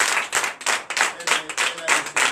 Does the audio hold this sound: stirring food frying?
no